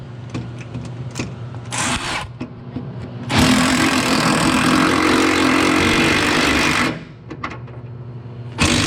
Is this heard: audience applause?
no